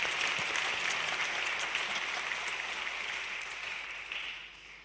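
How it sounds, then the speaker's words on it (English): Applause fills the hall at a news conference with the NATO secretary general and the Dutch prime minister, a steady moderate clapping that tapers off toward the end. "you might give an applause, definitely"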